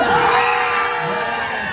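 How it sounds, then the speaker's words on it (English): Roller coaster riders at Busch Gardens Williamsburg scream and cheer together as a loud, sustained crowd roar that swells at the start and holds steady throughout, with no clear talk over it. "Let me hear you scream!"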